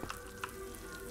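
Food sizzling on a kitchen grill in a SpongeBob video game: a quiet, brief, steady frying hiss with a couple of faint clicks and no one talking.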